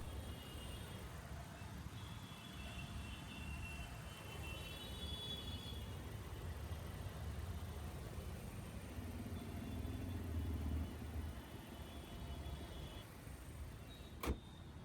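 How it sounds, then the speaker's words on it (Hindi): Volvo XC90 B5 AWD mild hybrid Drive-E petrol engine of the VEA family idling steadily, a low continuous hum with faint whirring overtones and a brief click near the end, no talk. "तो ये था ड्राइव ई पेट्रोल इंजन"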